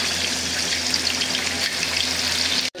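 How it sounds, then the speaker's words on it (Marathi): Ginger garlic paste fries in hot oil for a village-style chicken kala masala curry, a loud continuous crackling sizzle close up that cuts off abruptly at the end, with no voices. "सुरुवातीला आपण त्याच्यात अद्रक लसूणची पेस्ट चांगली तळून घेणार आहोत।"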